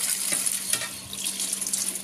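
Red grapes are rinsed under a running kitchen tap, a steady close hiss of flowing water with light splashing, no voices.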